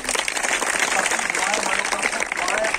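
Audience applause at a crowd gathering, a dense, continuous patter of many hands clapping at steady loudness throughout, with voices faintly mixed in.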